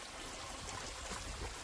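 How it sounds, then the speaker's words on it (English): Underground water trickles in a possible old mine entrance in Georgia as a faint, steady hiss of running water with a slight echo; no talking. "I'm hearing some underground water"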